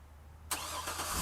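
A 2011 GMC Yukon Denali engine starts by remote start, its abrupt whoosh of ignition settling at once into a steady idle, heard nearby after a brief quiet moment.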